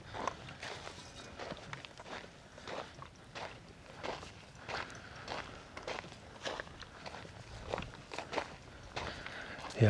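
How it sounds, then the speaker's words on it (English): Buffalo running through bush in the African wilderness, heard as a scattered series of soft, irregular thuds and crackles of trampled brush at moderate distance, continuing steadily with no talk. "it sounds like there was some buffalo in the bush here in the back. Yeah, I just heard them running."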